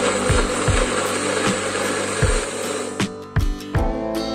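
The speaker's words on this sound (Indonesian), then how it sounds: "Kita mulai blender." A kitchen blender grinds red chillies with a little water, a loud continuous whirring with rhythmic thumping knocks as pieces hit the blades, growing choppier toward the end.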